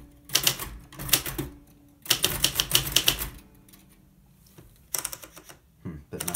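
A Royal 890 typewriter is typed on in quick bursts of sharp, close keystrokes separated by short pauses, with a brief carriage movement near the end.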